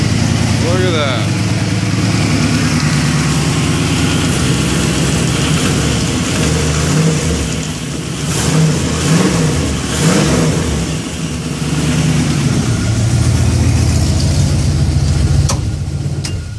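A BMW E36 with a swapped 5.3 LM7 V8 sits at a steady, loud idle, with a few quick revs rising and falling midway before it settles back to a rumbling idle.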